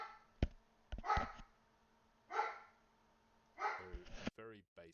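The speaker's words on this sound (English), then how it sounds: "Oh, the dogs are barking." Dogs barking somewhere off at a distance, a few faint separate barks spaced out over several seconds, with a voice speaking quietly in between.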